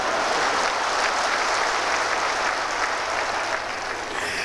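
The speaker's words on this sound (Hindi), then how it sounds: "इसमें तालियां कम बज रही हैं" Large audience clapping at a Swami Ramdev gathering on swadeshi economic freedom, a dense, continuous roar of applause that stays loud and even throughout with no talk over it.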